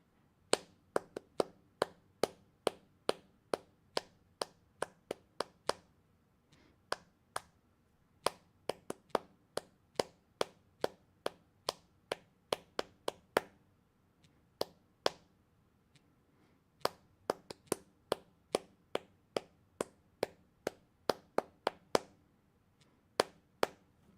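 Crisp rhythmic clapping over a steady metronome tick during cello practice. The pattern runs in bursts of even beats broken by short pauses and some quicker paired hits, close and clear over quiet background hum, with no voices.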